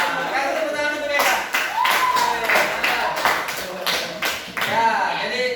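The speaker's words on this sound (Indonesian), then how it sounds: "Kasih tepuk tangan untuk Ega." A classroom of students claps for a classmate, a dense burst of applause running alongside a teacher's voice, with the clapping rising and falling across several seconds.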